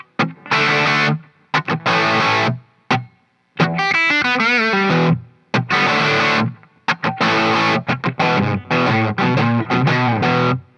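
Heavily distorted electric guitar chords and riffs played loud through a Nace M3-7R tube amp head, with choppy stops and a short bent lead phrase between strummed bursts.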